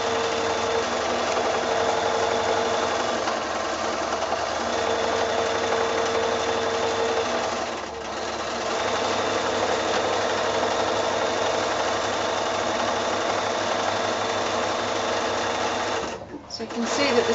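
A sewing machine runs steadily while stitching a quilted wall-hanging, with a close, continuous mechanical hum that dips briefly twice, and a voice talking over it.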